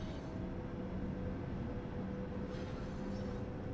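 A double-header train hauling tanker wagons in Train Sim World 4 rumbles as a steady, dense low roar with faint rail noise on top, close and continuous.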